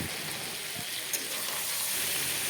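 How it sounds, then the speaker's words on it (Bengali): Potatoes and pointed gourd frying together with turmeric and salt give a steady, soft sizzle and hiss that runs unbroken for a couple of seconds, close by and moderately quiet. "আলু পটলের সাথে হলুদ নুন দিয়ে একসাথে সব ভেজে নেওয়া হয়েছে"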